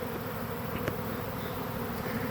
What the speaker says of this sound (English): There's a lot of bees right here.